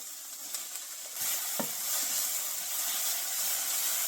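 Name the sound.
peppers frying in oil in a pan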